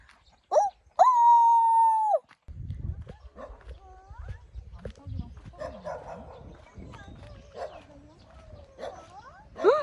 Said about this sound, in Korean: 개도 있어, 개